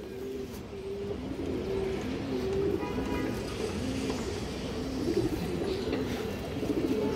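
Domestic pigeons in a loft coo repeatedly in low, rolling phrases, several birds close by with a steady rhythm over a soft background hum.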